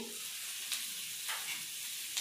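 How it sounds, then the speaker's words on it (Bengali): Steady, soft sizzling of food frying in a pan, with a few brief stirring scrapes, close and fairly quiet. "পেঁয়াজ রসুন আমার হালকা করে ভাজা হয়ে গেছে।"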